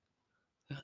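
A single short, muffled sneeze bursts out near the end, close by, after a moment of quiet.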